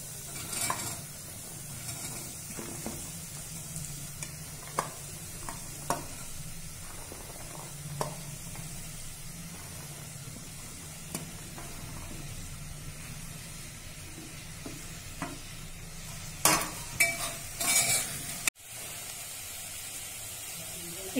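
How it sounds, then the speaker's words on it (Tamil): Mixed vegetables for a South Indian vegetable korma sauté in a pan, giving a steady low sizzle and hiss with scattered stirring clinks and scrapes, growing louder in bursts near the end. "இப்போ வெஜிடபிள் கொஞ்சம் வதங்கிடுச்சுங்க."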